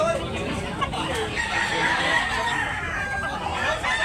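Roosters at a poultry market in Tabunok, Talisay, Cebu crow over a steady wash of crowd murmur and market noise, the crowing blending into the surrounding din rather than ringing out alone.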